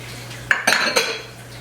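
Sugar and flour being stirred together in a bowl for a chocolate Texas sheet cake, heard as three quick clinks of utensil against the bowl, close and distinct with a brief hush between them.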